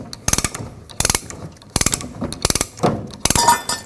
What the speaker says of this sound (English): Now let's bring the cable down so we can reattach our spare tire.